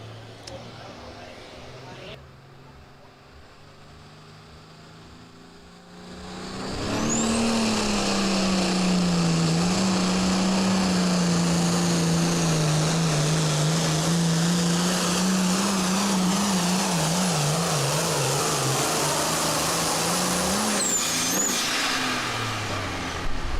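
A Case IH pulling tractor at a fair tractor pull roars loudly and steadily for about fifteen seconds after a quieter idle, its engine note wavering through the run before cutting back.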